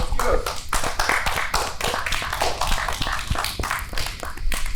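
Several people on a podcast clap hands in a fast, uneven patter that runs the whole stretch at close range, mixed with some speech.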